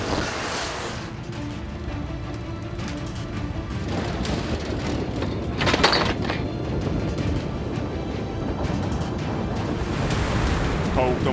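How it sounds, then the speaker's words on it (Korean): Strong waves and gusting wind at sea aboard a flatfish fishing boat in winter, a loud continuous roar of surf and wind buffeting with heavy crashing swells building throughout, and a narrator speaking over it. "더욱더 무섭게 몰아치는 파도."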